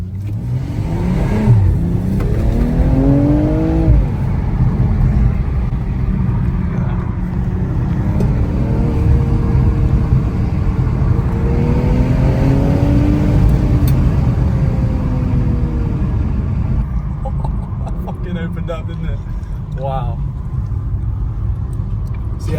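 A BMW M240i (G42) accelerates hard on the road, its engine note rising loudly through the gears with audible shifts, then settling into a steady cruising drone.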